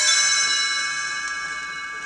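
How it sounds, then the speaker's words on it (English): Chimes ring as a page-turn signal on a Disney read-along record for The Black Hole: a single bright, shimmering chime strike rings out and slowly fades. "You will know it is time to turn the page when you hear the chimes ring like this."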